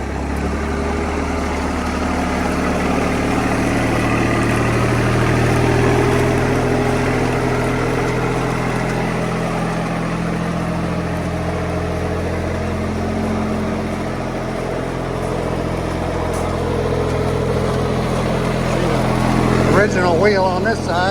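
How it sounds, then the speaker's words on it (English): Small tractor engine chugging steadily as the machine drives, a close, continuous mid-pitched rumble with a person talking over parts of it. "Little tractor drives again."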